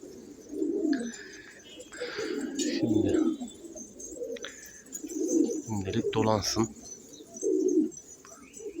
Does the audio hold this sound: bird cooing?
yes